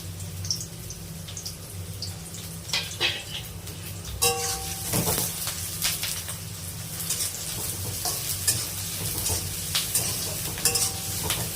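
Onions frying in hot oil in a pan for a prawn and potato curry, with a steady sizzle under occasional stirring and clinks of a utensil, close by and without speech.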